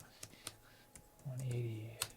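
Numbers typed on a computer keyboard, a few sharp, close key clicks spaced irregularly, with a voice speaking briefly in the middle.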